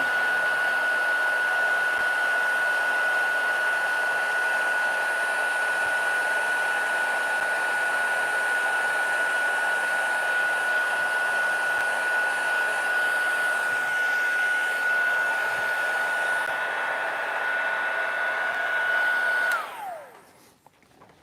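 Hot air tool blowing over a snow-capped gingerbread house decoration, a loud, steady close-up whoosh with a faint whine that runs unbroken for about twenty seconds before shutting off.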